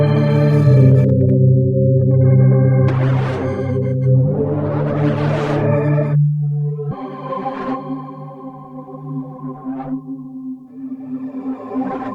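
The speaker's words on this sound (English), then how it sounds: "and that's just a sine wave." A sine wave run through Arturia EFX effects plugins gives smooth, sustained synthesized tones, shifting in pitch and swelling with effect-laden shimmer, played alone and fairly loud.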